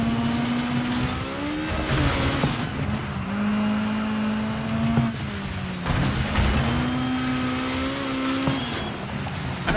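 Peugeot engine in Dirt 5 ice racing, loud and sustained, rising and falling through gear changes with steady revving and occasional tire squeal on the ice, no talk over it.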